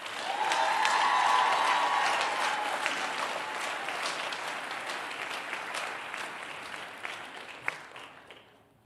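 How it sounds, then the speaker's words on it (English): An audience at a nursing school graduation and pinning ceremony breaks into loud, sustained applause with a few cheers. The clapping gradually thins out and fades away over about nine seconds. "Let's give a round of applause to Miss Alyssa Gebhardt."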